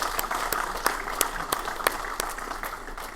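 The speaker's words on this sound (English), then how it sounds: "Let's give a round of applause to our B-sidesOrlando organizers" Scattered, sparse applause from a modest BSides Orlando security-conference audience honouring the organizers: individual sharp claps ring out at irregular intervals, fairly quiet and thin rather than a full ovation.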